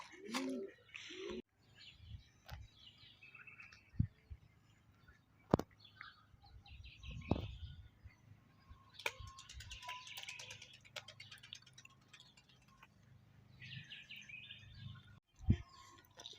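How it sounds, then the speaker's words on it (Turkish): Pigeons in a small flock of six or seven make scattered coos and chirps, interrupted by sharp knocks and rustles, with fairly quiet stretches between bursts. "6-7 tane kuş var."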